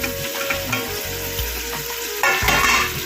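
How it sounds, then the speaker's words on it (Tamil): Tomatoes go into a pan of chicken biryani being made without ghee and fry with a steady sizzle. A spoon scrapes and stirs under it, and a louder surge of hissing comes near the end; no talking. "இனி வந்து இருக்கிற எல்லா தக்காளியும் வந்து மொத்தமாக போட்டுருங்க"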